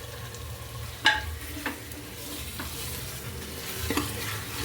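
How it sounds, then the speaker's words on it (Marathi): Chicken coated in masala is stirred in a pan over a low gas flame, with a few soft spoon scrapes rising over a steady, gentle frying hiss. "सगळा मसाला चिकनला व्यवस्थित लागला पाहिजे अशा प्रकारे हलवून घ्यायचं"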